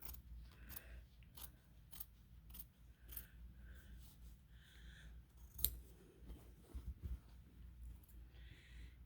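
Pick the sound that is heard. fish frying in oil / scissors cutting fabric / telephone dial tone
scissors cutting fabric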